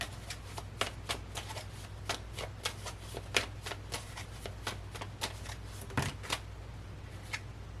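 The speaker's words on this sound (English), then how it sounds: "And you saw me shuffle this deck." A deck of tarot cards is shuffled by hand for a pick-a-card reading, crisp riffling snaps and slaps repeating in an irregular rhythm, close and fairly quiet, with no talking.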